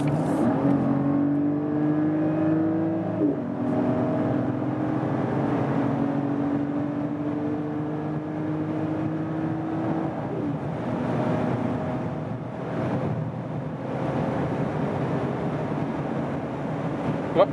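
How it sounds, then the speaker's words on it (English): A Mercedes GLE 450 SUV with a six-cylinder engine accelerates hard from speed after a downshift, its engine note rising in a steady climbing drone heard from inside the cabin, with a brief shift around the third second and road noise underneath. "What about the acceleration now? Already shifted down a gear, and let's go."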